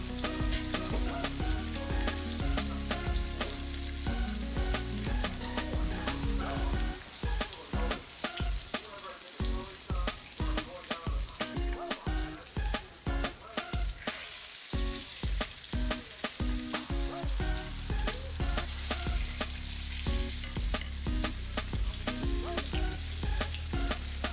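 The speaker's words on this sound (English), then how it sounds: "Our patties are deep frying, y'all." Loud, continuous crackling and sizzling of patties deep frying in hot oil, with dense popping bursts throughout and no talking.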